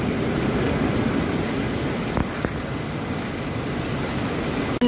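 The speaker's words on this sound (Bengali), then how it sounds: "নিচে এলাম, বৃষ্টি এখনো পড়ছে" Steady rain falls outdoors near the sea by a lighthouse, a constant close hiss of drops with a faint click near the end and no voices.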